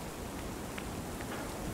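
Rain falls in the horror video game Lunacy as a steady, dense patter on surfaces, a continuous hiss with a few slightly sharper drops and no speech.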